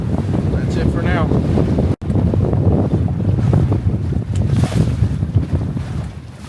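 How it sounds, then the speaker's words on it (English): Strong wind gusts roar across the microphone aboard a Catalina 22 sailboat sailing with a reefed mainsail, with water rushing along the hull and brief faint talking. "Just wanted to show some bigger gusts when they come."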